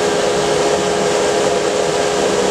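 A Harbor Freight Central Machinery dust collector with a cyclone separator runs at full power, giving a loud, steady whooshing drone with a constant motor whine and no change in level.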